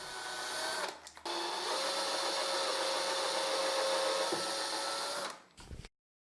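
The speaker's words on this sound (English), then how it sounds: "I drill a guide hole in each mark." A power drill boring guide holes into a plywood piece, making a steady, loud whirring hum of about four seconds with brief stops and restarts at either end, no voices present.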